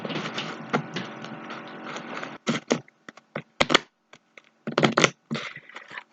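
Oracle card decks being shuffled up close: dry papery riffles and sharp clacking bursts, a long run and then scattered short flurries with quiet gaps, no talking.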